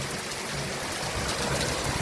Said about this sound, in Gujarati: નદીમાં પેલી વરસાદ આવો જોરદાર આવ્યો ભાઈ